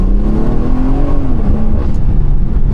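A 500 horsepower stage 2 BMW 340i accelerates hard from inside the cabin, the engine note rising steadily in pitch, loud and close, with no talking.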